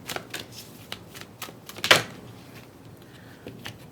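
Tarot oracle cards riffled and shuffled up close in a quiet room, a string of soft papery flicks building to one sharper slap near the middle, then a few light taps as a card is drawn.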